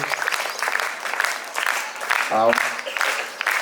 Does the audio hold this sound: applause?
yes